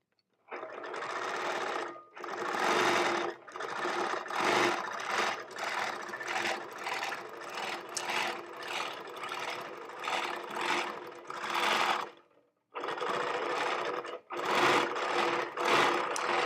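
Handi Quilter Moxie longarm quilting machine stitching fabric and batting in steady close bursts of rapid mechanical whirring, pausing briefly twice between runs.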